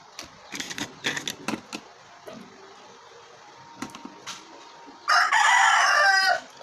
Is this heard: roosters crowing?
yes